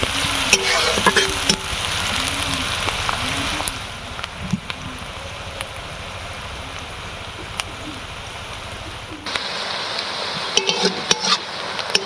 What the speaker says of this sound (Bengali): তো এখানে পেঁয়াজটা বেশ ভালোই ভাজা ভাজা হয়ে গেছে।